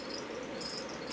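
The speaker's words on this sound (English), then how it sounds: "There's a cricket." A cricket chirps inside a bearded dragon enclosure, a rapid, continuous high trill, close and fairly quiet, with no voices over it.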